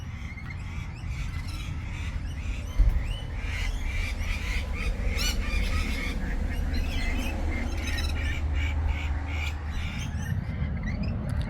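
A large flock of around a hundred parrots squawking in trees near a house, a dense, continuous clamour of harsh overlapping calls over a low background rumble, with no speech.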